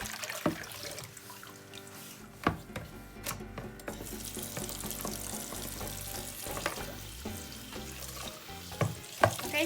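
A washable face mask scrubbed and swished by hand in water, with wet splashing, rubbing and dripping sounds and occasional sharper sloshes, close and steady with no talking.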